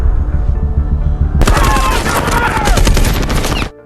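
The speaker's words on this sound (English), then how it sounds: "Panicked, the military unleashed indiscriminate gunfire" Sustained rapid gunfire bursts in suddenly, a loud, dense fusillade of overlapping shots that runs for about two seconds over a low background drone and then cuts off.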